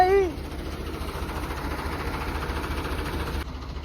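A tractor engine idles with a steady low rumble throughout, and a brief voice is heard at the very start.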